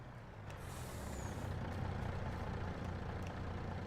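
Truck engine in Farming Simulator 22 rumbling steadily at low pitch, with a brief hiss near the start and faint clicks over the continuous drone.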